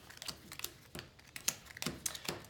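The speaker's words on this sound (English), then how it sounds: "Time to shuffle the monster deck here" Cards from a Gloomhaven monster deck are shuffled, giving quick, faint, irregular riffling clicks and snaps over a few seconds.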